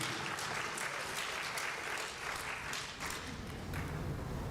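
An audience at a talk in Unity Temple, Detroit, breaks into sustained applause, a dense steady wash of clapping that holds evenly throughout with no speech over it.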